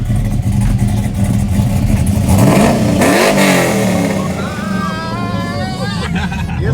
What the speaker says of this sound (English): rev it up one time